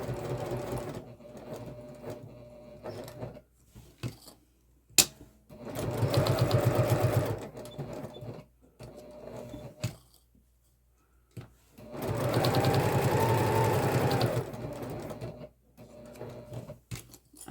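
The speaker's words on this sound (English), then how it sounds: "I'm going to go ahead and stitch all the way around that." A sewing machine stitches around Velcro on a messenger bag strap in two short bursts of rapid needle chatter, separated by quiet handling clicks and fabric shuffling nearby.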